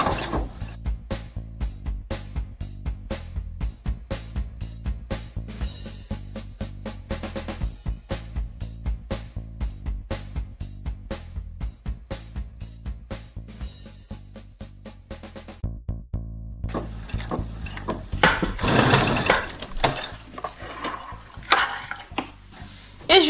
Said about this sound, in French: Et maintenant, faites votre couture.